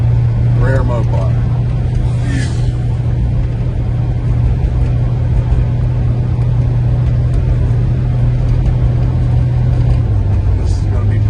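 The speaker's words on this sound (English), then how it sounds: "Great running vehicle. Not fully warmed up." A 1969 Plymouth Road Runner with the A12 engine, not yet fully warmed up, idles as a steady low rumble throughout, loud and close, with faint talk at the start.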